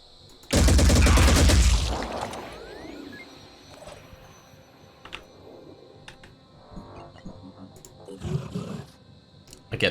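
A rocket fired in the Phoenix Point video game, one loud sudden roaring blast lasting over a second and then fading into quieter battle noises and scattered clicks.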